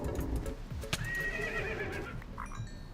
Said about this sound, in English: Oh, zombie horse.